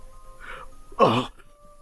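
A single harsh, close cough bursts out, coughing up blood, preceded by a softer throaty sound.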